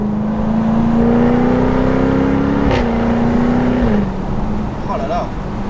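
A Jaguar F-Type R P575 convertible's V8 engine drones loudly and steadily at close range, its pitch climbing slightly before dropping back, with a faint voice underneath.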